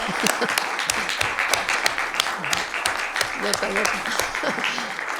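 An audience at an international congress on literature written by women claps steadily while voices talk over the clapping throughout.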